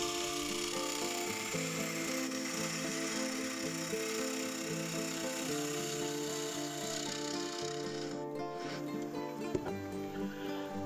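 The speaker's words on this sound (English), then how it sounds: "And still using one of my primary tools, the half-inch bore gouge." A half-inch bore gouge cuts a spinning wooden ball on a lathe, a continuous scraping, rubbing hiss over the low hum of the machine, steady and moderately faint throughout.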